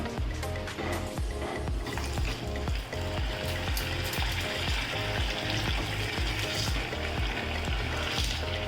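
Loud, steady sizzling and bubbling of chicken cheese balls deep frying in hot oil, continuous throughout with occasional stirring clatter.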